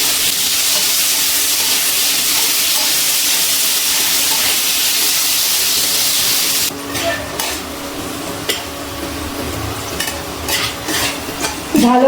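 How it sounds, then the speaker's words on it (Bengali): Small salted, turmeric-coated potato pieces frying in hot oil, a loud continuous sizzle that drops off midway into quieter bubbling, with repeated scraping and clinks of a spatula stirring in the pan. "খুব ভালো করে লাল লাল করে আলুগুলো ভেজে নেব।"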